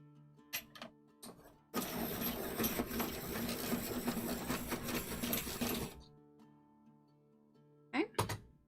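A Lyra Rembrandt colored pencil is sharpened in one continuous grinding whir lasting about four seconds, close and fairly loud, with brief handling sounds before and after.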